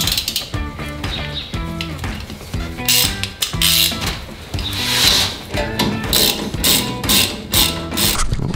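A hand ratchet tightening a bolt on a Ram 1500 front shock: rapid bursts of clicking pawl ticks in short repeated strokes, close and crisp, with ringing metallic tones between them.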